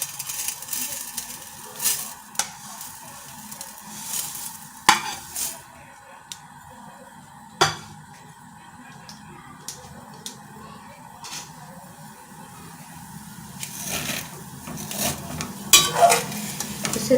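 Vermicelli (seviyan) roasting dry in a pan, stirred with a spoon: intermittent scraping and clinks against the metal pan over a faint low sizzle, with quiet pauses between strokes.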